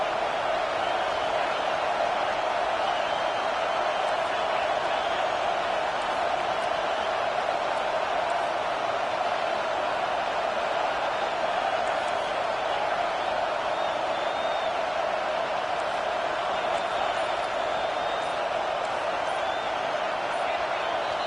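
In the College Football 25 video game, the stadium crowd for Washington versus Miami produces a constant, dense roar that holds at a steady level throughout, while commentary voices talk over it.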